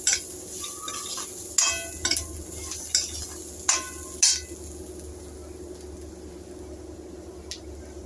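Cut potato pieces fry in oil over a low flame while being stirred, with a steady soft sizzle beneath sharp clinks and scrapes of a spoon against the pan, several of them in the first half, then quieter.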